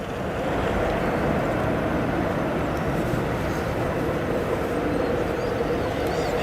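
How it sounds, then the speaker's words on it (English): An American Airlines Boeing 787-9 Dreamliner takes off from O'Hare, a steady, distant broadband jet roar that holds without voices. "Yet another full-length departure. This one from an American Airlines 7879 Dreamliner."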